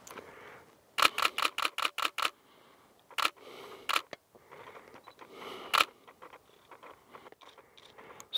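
Camera shutter photographing mule and pronghorn deer in a mountain landscape, a rapid burst of sharp clicks followed by scattered single shots and a few short bursts, close and crisp.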